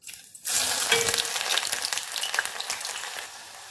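Chopped onions dropped into hot vegetable oil in a dry pot burst into a loud sizzle after a quiet moment, then settle into a steady, crackling fry close up.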